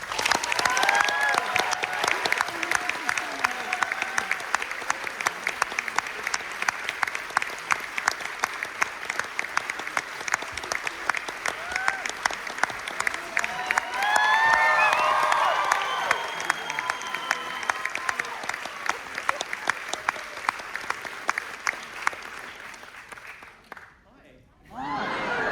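Sustained applause from an indoor audience at a Sydney book launch greets Darren Hayes and Stuart Coupe taking the stage, steady dense clapping with scattered cheers and chuckles that fades away near the end.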